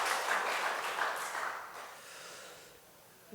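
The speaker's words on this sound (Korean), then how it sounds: "환대하는 마음으로 이렇게 박수를 드렸습니다." A church congregation claps together to welcome visiting guests during a Korean worship service, a dense wash of applause that starts loud and gradually thins and fades over a few seconds.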